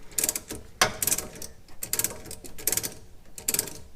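A ratchet clicks in quick repeated bursts while tightening the sway bar end link on a 2009 GMC Yukon 2WD front suspension, a close, crisp pawl chatter with short pauses between strokes and no talking.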